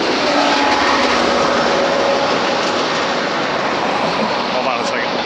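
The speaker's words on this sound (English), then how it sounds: "That's the commuter rail. It's the only train in town." A commuter rail train passes close by with a loud, continuous broadband roar and rumble that holds steady throughout.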